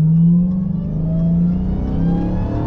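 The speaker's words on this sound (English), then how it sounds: "the acceleration is so hard in this Charger Hellcat Redeye" A 2021 Dodge Charger Hellcat Redeye accelerates hard, its loud engine note climbing in pitch and shifting smoothly mid-pull, heard from inside the car with no talking.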